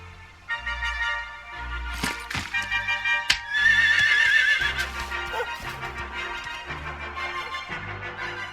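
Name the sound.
horse neighing in a video game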